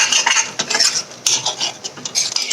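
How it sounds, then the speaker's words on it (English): Spoon stirring thick tomato gravy for lobia curry in a cooking pot, a steady run of close scraping and clinking strokes with no voices. "Keep on stirring in between so that it doesn't stick to the bottom."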